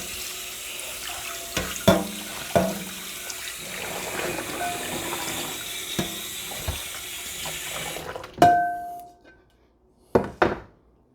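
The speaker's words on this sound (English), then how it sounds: "Clean the frying pan, hot soapy water." Tap water runs steadily while a frying pan is scrubbed in hot soapy water and knocked in a sink, with a few clanks, then the flow stops and a couple of final thuds.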